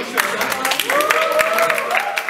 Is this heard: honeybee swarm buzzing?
no